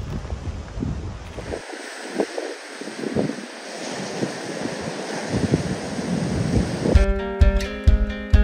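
Sea waves at El Golfo on Lanzarote wash in a steady roar, heavily buffeted by gusting wind against the microphone, before music takes over near the end.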